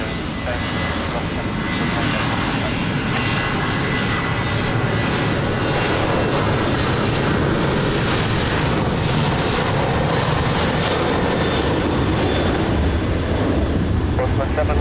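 Ryanair jet taking off from runway 20 at Lisbon Airport, a loud, continuous engine roar filling the whole stretch with a broad rumbling spread.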